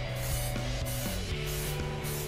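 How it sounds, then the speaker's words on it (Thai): Kinz glass coating spray is sprayed in vertical passes, giving a continuous hissing mist with pulsing strokes over steady tonal background music. "การพ่นครับก็อย่างที่บอกครับพ่นครับแนวตั้งครับ"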